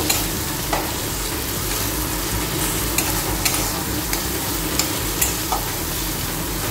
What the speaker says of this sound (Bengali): এবার দিয়ে দেবো হচ্ছে হলুদ গুঁড়ো, দিয়ে এটাকে ভালো করে মিক্স করে নেব